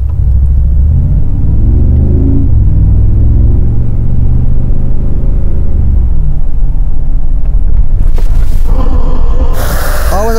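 Car doing a spin exercise with ESP switched off on a driving course at the G-Class Experience Center in Graz, with a loud, heavy engine rumble that rises and falls as it revs, close up, and brief bursts of tyre noise near the end.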